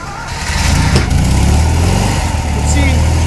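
A cold BMW R60/5 motorcycle engine fires up and settles into a steady, loud idle close by, with a spluttery low rumble that holds for the few seconds heard.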